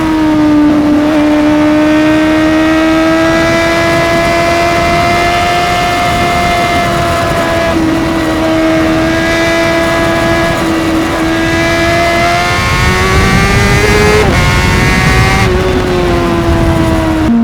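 Motorcycle engine revving while being ridden on a tight, twisting road, a loud, continuous tone that rises and falls with throttle changes, close and prominent with no talking.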